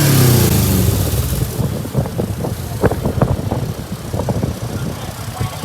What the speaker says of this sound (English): let's take this thing for a spin. Just put a Subaru engine in it.